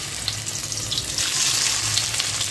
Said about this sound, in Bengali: আর এই দেখো কড়াইতে তেল দিয়ে দিয়েছি, আর এর মধ্যে নুন, হলুদের গুঁড়ো আর একটু লঙ্কার গুঁড়ো দিয়ে দিয়েছি